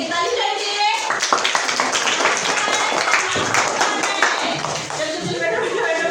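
A group of young children in a classroom clap their hands together during a game, a dense, uneven burst of close claps with children's voices chattering throughout.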